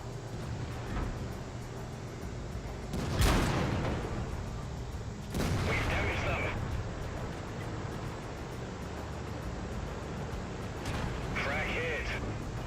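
A tank cannon firing in World of Tanks, with heavy booming shots spaced several seconds apart, each followed by a rumbling decay and a brief metallic reload clank, over constant engine and battle noise.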